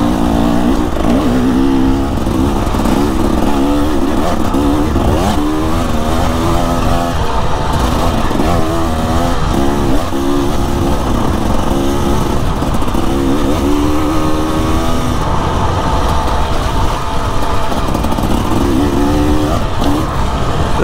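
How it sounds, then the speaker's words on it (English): 2024 KTM dirt bike engine ridden slowly over rocky terrain in Africa, a loud continuous buzzing exhaust with frequent throttle blips and rising and falling revs, close to the rider throughout. "The throttle seems so nice on this bike, so nice."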